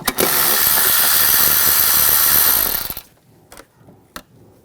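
A 10mm socket on a power driver spins a valve cover nut off a 2000-2006 BMW X5 3.0L inline-six: a loud, steady whirring burst of about three seconds, then silence broken by a few faint metallic clicks.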